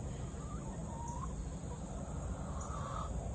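A chicken gives repeated sharp alarm squawks and clucks at a moderate distance, over a steady background hum.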